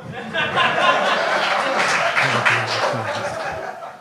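An audience at a French-language comedy show claps and chuckles, a moderately loud wash of applause mixed with laughter and some voices, lasting about four seconds.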